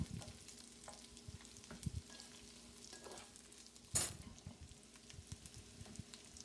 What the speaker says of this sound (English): You have to fry carrot first because it's hard and it takes some long time to fry.